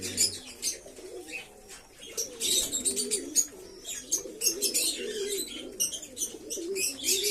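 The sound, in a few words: pigeons cooing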